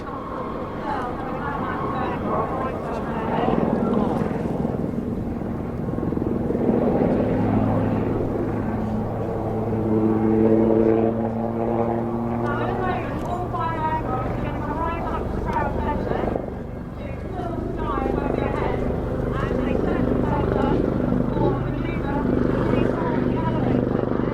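A Westland Lynx helicopter drones steadily with rotor and engine noise under continuous talk from several people, the pitch shifting as it passes.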